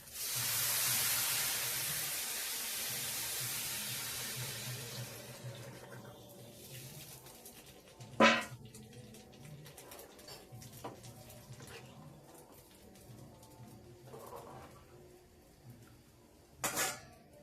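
Hot water is poured into a pot of khichuri on a home stove, a loud rushing splash for about five seconds that gives way to quieter kitchen bumps and a couple of sharp clinks.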